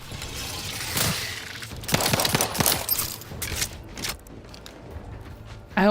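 Gunfire in the video game The Outer Worlds 2, played on hardest difficulty: bursts of rapid shots and clatter over about four seconds, fading into quieter mechanical sounds, with no talk.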